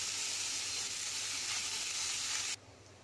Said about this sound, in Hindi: प्याज को हल्का सा भुनने भुनेंगे, ज़्यादा ब्राउन नहीं करना